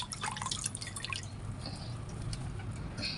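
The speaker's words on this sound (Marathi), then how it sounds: "हे बघा, मी इथे कोथिंबीर ही पण मी धुवून घेते." Fresh coriander is rinsed under water, a steady soft splashing and trickling that runs throughout at close range, with no talking.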